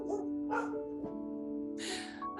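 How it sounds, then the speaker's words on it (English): Dogs bark in several sharp, separate bursts, fairly faint and a little distant, with a short yip among them and quiet gaps between. "thank you for protecting me, dogs"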